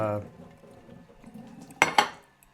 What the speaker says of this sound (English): Okay, so here's the plate. Here's my cutlery.